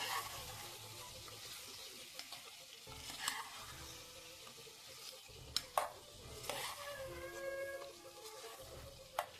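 Chicken gravy ingredients frying in oil in a pan, a steady sizzle with repeated scraping stirs and a few sharp utensil clinks against the pot.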